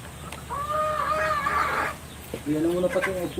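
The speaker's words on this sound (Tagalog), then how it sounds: "Ang ingay nung mga manok." Chickens cluck and crow nearby in drawn-out calls against steady background noise, with voices mixed in.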